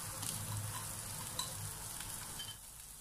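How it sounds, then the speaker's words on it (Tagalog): Onions sauté in a pan for ampalaya (bitter gourd), giving a soft, steady sizzle with occasional light stirring scrapes and clicks, quiet and close, with no talk. "gigisahin lamang po natin ang ating sibuyas for 35 seconds"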